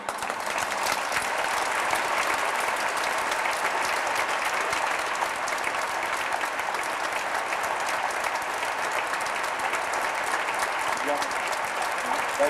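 Sustained audience applause after a lecture on Dante, a dense, even wash of clapping that holds steady and loud throughout without letting up.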